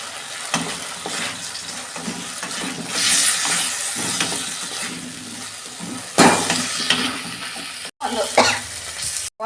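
Potatoes for aloo dum stir-fried with a little sugar in a pan, with steady scraping and clattering stirs over a sizzling background, close and loud, cut by two brief dropouts near the end.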